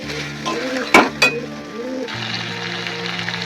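A spoon scrapes and clanks against a pan while cashew paste is stirred into chicken malai curry, with two sharp metallic knocks amid soft stirring and a steady low kitchen hum.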